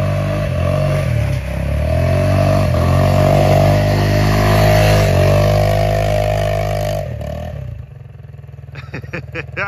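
A small Yamaha ATV engine with a worn motor burning excessive oil runs loudly and steadily up close, a rough continuous drone that drops off near the end into quieter clatter.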